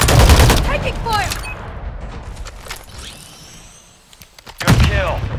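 Loud gunfire from the video game Call of Duty crackles in dense bursts at the start and again near the end. Brief radio-style chatter and game effects fill the quieter middle.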